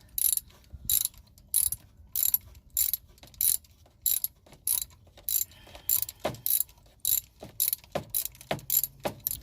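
A hand ratchet on an extension loosening bolts during a power steering pump and hose replacement. Loud, close, regular bursts of rapid metallic clicking repeat steadily, with no talking.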